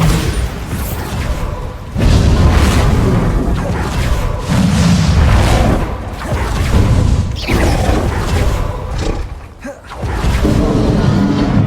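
Repeated booming blasts from a Confringo fire spell in Hogwarts Legacy, several loud bursts in quick succession with whooshing crackle and clattering debris, filling the scene with dense game combat noise.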